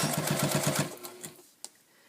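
Sewing machine with a hemmer foot runs a narrow rolled hem on a garment, a quick rhythmic burst of about a dozen stitching thumps that slows and stops, followed by a single small click.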